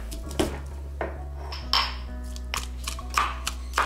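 Garlic is mashed in a bowl with a garlic press, giving a series of sharp metallic clinks and taps against the dish at an irregular, unhurried pace, close and clear over a faint low hum.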